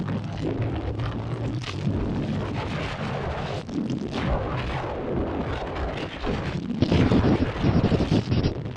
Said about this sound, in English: Oh, that's noisy, huh? It's a lot of wind today.